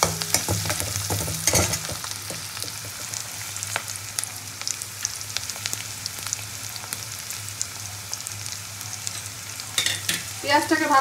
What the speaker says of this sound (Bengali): পেঁয়াজটাকে কিন্তু খুব ভালো করে ভেজে নেবো তেলের মধ্যে।